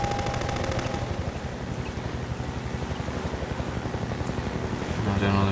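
Rapid automatic gunfire in the video game Half-Life 2 rattles out in a fast, steady burst lasting several seconds, loud and continuous, with a brief voice heard in the mix.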